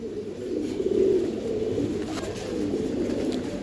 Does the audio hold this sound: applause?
no